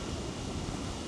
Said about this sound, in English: This wind is absolutely ridiculous.